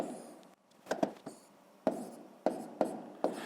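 Numbers being written by hand for a sixth-grade maths exercise: a few short, close scratchy strokes of pen on paper, separated by brief pauses, with no voices.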